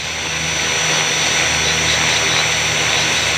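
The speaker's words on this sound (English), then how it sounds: "I'm going to do a little bit of grass cutting on the tail." Tail rotor of a 450 Pro RC helicopter whirring loudly as it cuts into grass, a steady close-up buzzing whine with broadband swishing noise and no speech.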